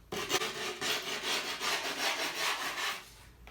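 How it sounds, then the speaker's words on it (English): A skate tool scrapes an outline around an Anti Hero 8.5 skateboard deck, giving loud, continuous gritty rasping in steady back-and-forth strokes for several seconds with no talking. "now we're gonna use the skate tool. We're gonna make our outline. This is a little noisy,"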